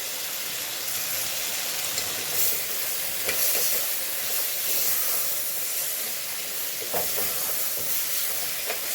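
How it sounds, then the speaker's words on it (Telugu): Flat bean curry with coriander powder sizzles in a pan while being stirred, giving a continuous frying hiss broken by scattered scraping clicks of the spoon, close and with no talking. "మొత్తం బాగా మిక్స్ చేసుకోవాలి ఒకసారి."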